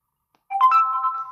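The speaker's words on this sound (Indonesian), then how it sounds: "ada kirim notifikasi" A short electronic notification chime from an Android app sounds once after a half-second of silence, bright and tonal with a sustained ringing tail, close and clear with no talk.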